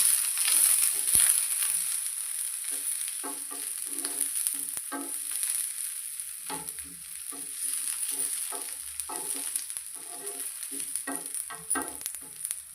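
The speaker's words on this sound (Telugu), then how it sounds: "ఇలా మీడియం ఫ్లేమ్లో పెట్టుకొని మంచిగా వేయించుకోవాలి ఉల్లిగడ్డలని" Onions frying on medium flame in an iron pan while being spread out, giving a faint steady sizzle broken by repeated clinking, scraping stirs. Nobody speaks.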